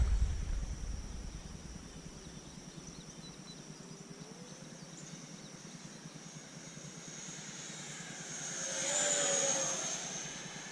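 A Freewing F-14 Tomcat RC jet with twin 64mm ducted fans flies on its first flight, its steady airy whine drifting at a distance, then swelling louder as it passes near before easing off, with no talk.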